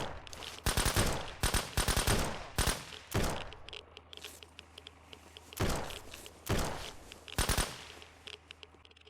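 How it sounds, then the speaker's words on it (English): Gunfire in the survival video game Surroundead comes as repeated loud, close bursts of sprayed automatic fire. Clustered volleys are separated by short lulls, and no voices are heard. "I sprayed a little bit more bullets than I should have"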